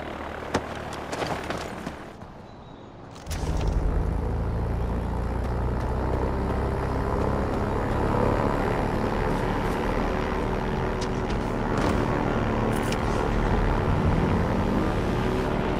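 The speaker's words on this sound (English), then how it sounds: "The one in the plane that's about to take off." A plane in the video game Far Cry 4 takes off, its engine roaring up loud and steady after a brief quiet moment, holding a dense sustained drone with no talking.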